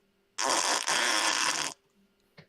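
A single loud, wet voice imitation of a fart, projected as if over a station-wide speaker system, lasting about a second and a half with a brief break, followed by quiet.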